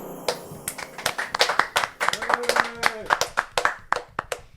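A small audience at a debate event applauds, distinct individual hand claps in an uneven patter that builds and then thins out, with a few voices talking over it.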